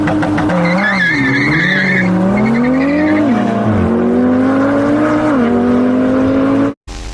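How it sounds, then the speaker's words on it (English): A sports car drifting with tires skidding and squealing steadily while the engine revs rise and fall, loud and close, cutting off abruptly near the end. "Next level drift going on here."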